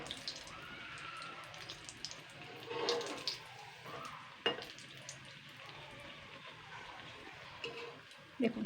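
Pumpkin-leaf fritters (bora) frying in medium-hot oil, a soft steady sizzle with occasional crackles and small clinks from turning them, fairly quiet and close.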